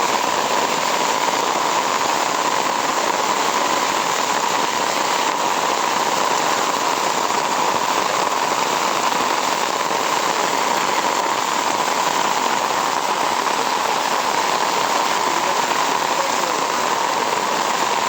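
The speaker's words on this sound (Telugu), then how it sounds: "వర్షం పడుతుందని అందరు ఇక్కడ వెయిట్ చేస్తున్నారు" A downpour keeps falling at the entrance to a temple in Bali, with a thick, constant roar of rain on hard surfaces close by and nothing else breaking through.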